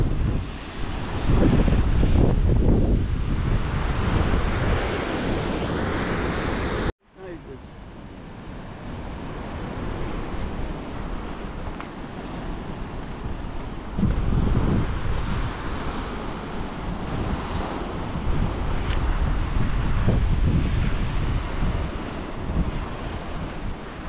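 Ocean waves at Granite Island, South Australia, washing in with steady broadband roar and heavy wind buffeting on the microphone, a brief cut near the start, people talking faintly in places.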